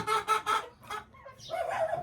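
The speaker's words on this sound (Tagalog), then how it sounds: "Ngayon ay magpakain tayo ng ating mga alagang manok." Chickens clucking close by in short bursts, a few rapid clucks followed by busier overlapping calls from the flock.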